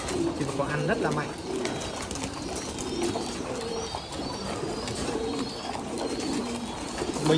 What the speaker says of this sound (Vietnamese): chim bồ câu ăn rất là mạnh